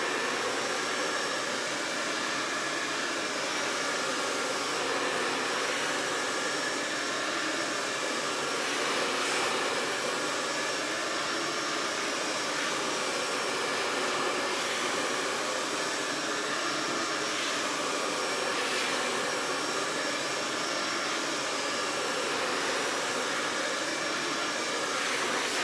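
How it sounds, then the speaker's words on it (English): A hot air drying tool blows on a freshly made chalk sign for home decor, giving a steady, loud whooshing roar that holds constant for the whole stretch with no talking. "I'm using a hot dryer on this"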